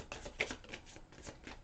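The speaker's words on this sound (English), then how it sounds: "getting these all shuffled up for you" Tarot deck being shuffled by hand, a soft, close riffling and flapping of cards that runs in quick bursts through a quiet moment.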